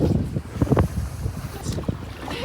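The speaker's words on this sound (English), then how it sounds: "There's not enough wind for sailing until this happened, and now the wind is kicked up." Wind buffeting a sailboat at sea during a nonstop passage, a steady rushing gust with low rumbling microphone noise and some water movement, fairly loud and continuous.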